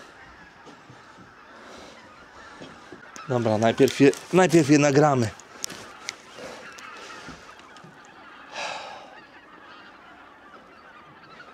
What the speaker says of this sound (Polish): Około 2000 gęsi